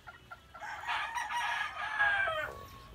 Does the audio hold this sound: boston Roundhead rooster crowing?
yes